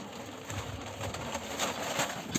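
Pigeons at a newly started farm give low murmuring coos, faint and continuous, under a hiss of background noise.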